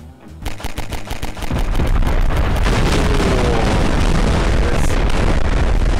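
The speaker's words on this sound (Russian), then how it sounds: "Красивый взрыв?" A loud, sustained explosion in Garry's Mod: a sharp burst that swells into a continuous roaring rumble and keeps going for several seconds.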